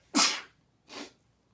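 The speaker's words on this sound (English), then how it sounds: "I'm gonna sneeze" Two sneezes in close succession, the first loud and sharp, the second shorter and softer, with no talk around them.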